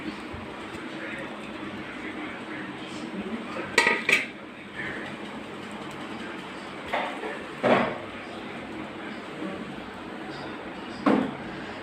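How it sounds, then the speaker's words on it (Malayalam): Mango pieces are tipped into a metal wok, making a few scattered clattering knocks against a quiet kitchen background. "മാങ്ങ ഞാൻ ചീനച്ചട്ടിയിലേക്ക് ഇടാണ്."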